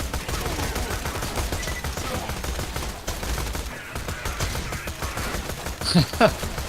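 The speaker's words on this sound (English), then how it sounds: "Time to try out my new gun." Shotgun fire from a new gun in the video game Borderlands 2, a dense, continuous barrage of blasts and battle noise filling the whole stretch, loud and close, with a few sharper cracks near the end.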